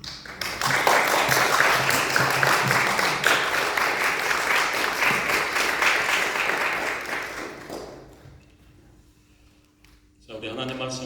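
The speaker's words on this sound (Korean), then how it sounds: "여러분이 나오실 때 언어하는 의미로 박수를 쳐주시면 고맙겠습니다" A church congregation at a Sunday service in a Korean church gives sustained, dense applause for nearly eight seconds, loud and full, then it fades to near silence before a voice begins speaking at the end.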